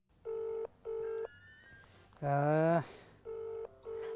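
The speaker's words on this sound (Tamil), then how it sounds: "இப்போ பாரு நான் ஃபோன் பண்ணுறேன்." Telephone ringing as a call goes through, with repeated electronic ring bursts in a steady on-off rhythm, broken in the middle by a brief loud voice.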